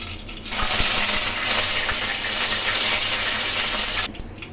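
Curry leaves drop into hot oil with already-popped mustard seeds, setting off a loud, steady crackling sizzle that starts abruptly, holds for about four seconds, then cuts out, with no talking.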